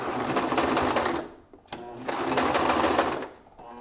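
A sewing machine stitches fabric in two loud, close bursts of rapid needle chatter, separated by a short pause as the stitching stops and restarts.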